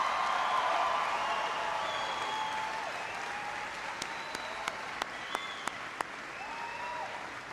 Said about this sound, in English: Please give a huge round of applause to your mayor, Antonio Villaraigosa.